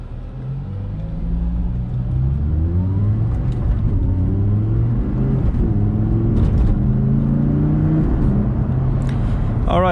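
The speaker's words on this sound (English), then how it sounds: "I'm gonna go through a couple gears here" Audi R8 V10 engine working up and down through the gears, a steady close engine drone with pitch rising and falling in stepped sweeps as gears change, continuous for the whole stretch.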